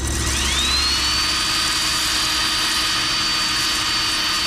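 A steady, loud high-pitched whirring grind from a power drill spinning a flap wheel sander against rusty metal, polishing away rust, continuous and close.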